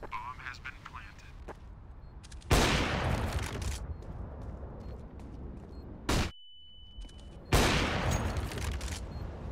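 Gunfire in the video game CS:GO breaks out in loud, close bursts, with repeated volleys separated by quieter gaps full of game ambience.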